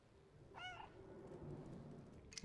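A single short cat meow from the video game Stray, fairly faint and set against a low ambient hum, with a small click near the end.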